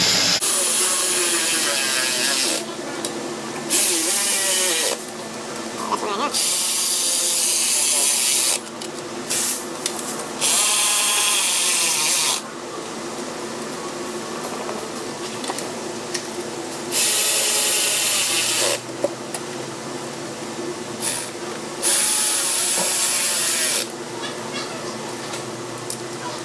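A hand ratchet tightens valve cover bolts on a Ford 5.4 V8 engine, sounding as repeated close bursts of rapid clicking separated by short pauses, with no talk.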